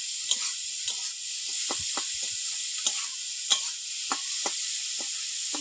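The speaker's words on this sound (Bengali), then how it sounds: "চিংড়ি মাছটা হালকা করে ভেজে নেব।" Prawns lightly frying in a pan, with a soft steady sizzle and a series of short, sharp crackles and pops scattered throughout; fairly quiet and close, with no voices.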